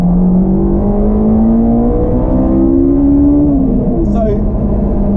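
A Honda S2000's engine revs up through second gear toward 9,000 rpm, its tone climbing steadily and shifting character near the top as VTEC engages, heard loud from inside the car with talk over it.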